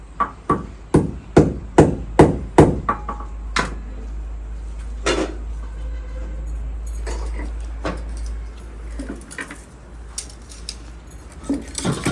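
Nails are hammered into a wall: a run of about eight sharp, evenly spaced blows, loud and close at first, then scattered lighter knocks and clatter over a low background hum.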